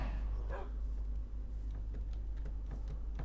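A few short, sharp barks from Minecraft wolves following the player, scattered and moderately loud over a low steady background hum, with no talking.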